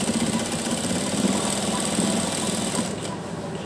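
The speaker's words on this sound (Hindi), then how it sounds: "अब हम स्ट्रिप के किनारे किनारे पर सिलाई लगा देंगे" A sewing machine stitches along the edges of a fabric strip for gota and lace work, producing a continuous close mechanical whirring chatter that keeps a steady rhythm and stops briefly near the end.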